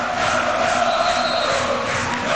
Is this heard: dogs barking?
no